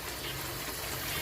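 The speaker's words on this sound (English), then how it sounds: "And then drain off the excess water." Excess rinse water drains off washed basmati rice in a home kitchen, a steady close, dense watery rush that runs continuously with no voices.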